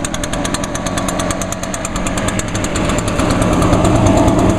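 A small Echo power-equipment engine runs steadily at high RPM, loud and close, with a rapid regular buzzing pulse throughout.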